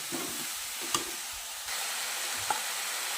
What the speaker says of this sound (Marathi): थोडंसं कांदा खोबऱ्याचं वाटप टाकते जरा मिक्स करून घेते